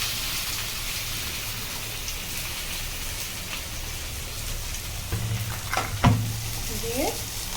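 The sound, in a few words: ingredients frying in hot oil in a kadai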